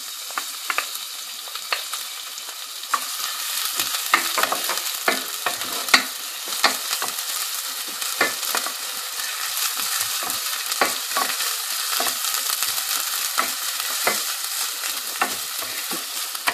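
Onions frying in hot oil for Chandigarh-style chicken karahi, a loud continuous bright sizzle broken by frequent sharp spatula scrapes and taps against the pan, no voices.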